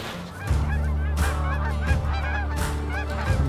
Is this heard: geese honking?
yes